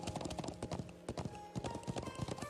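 Horse hooves clip-clop in a quick, steady rhythm while a rider travels in a video game, close and moderately loud, with a faint neigh.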